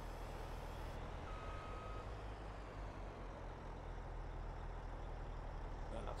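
A truck in Farming Simulator 22 rumbles with a low, steady engine drone and gives a single faint, thin reversing beep early on.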